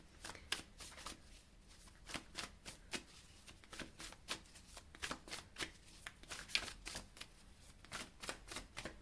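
Tarot cards shuffled for a reading, a close, quiet run of rapid crisp riffling snaps repeating irregularly throughout.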